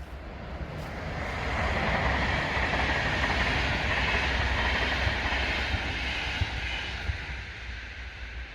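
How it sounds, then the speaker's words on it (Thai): A train rumbles past at a moderate distance, its steady roar swelling and then slowly easing away, with faint clicks of wheels on track. "เสียงรถไฟมาพี่น้อง"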